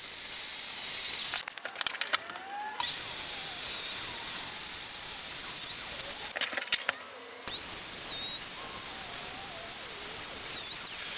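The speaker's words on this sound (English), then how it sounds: "I'll use the domino joiner to cut the dominoes so I can hold everything together." A domino joiner cuts into walnut pieces, its high motor whine holding steady while two short, rougher bursts break in as the cutter plunges, heard close and loud with no voices.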